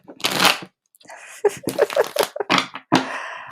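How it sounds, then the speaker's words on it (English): Tarot cards riffle and slap together in quick bursts, close and crisp, with short pauses between shuffles. "Let me get some clearing shuffles in."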